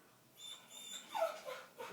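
A children's toy sound puzzle plays a short electronic dog sound, a faint whimpering yip repeated in a few quick pulses over a quiet room.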